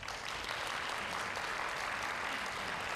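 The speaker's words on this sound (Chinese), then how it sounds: "给我们的指导老师们鼓掌一下" A school audience gives steady, dense applause for the coaching teachers at a student diplomacy performance contest's preliminary round, with many hands clapping evenly and no voices above it.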